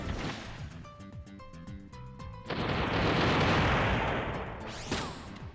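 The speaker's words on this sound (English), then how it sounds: "I'm going to drop grenades on you." Grenades burst against a tank in a Frozen Synapse-style tactics video game: game tones, then a loud roaring explosion that rumbles for a couple of seconds before a second sharp blast, with no talking.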